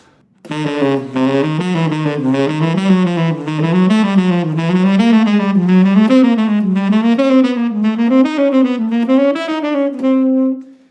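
A clean, sustained guitar line climbs steadily note by note through a diminished scale in an even rhythm, played alone and clearly with a smooth, singing tone.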